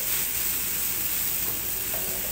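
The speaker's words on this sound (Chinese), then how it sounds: "苦瓜下去先炒一炒" Bitter melon stir-fried in a generous amount of oil in a pan gives a steady, close sizzle that hisses without a break for the whole stretch. No voices are heard.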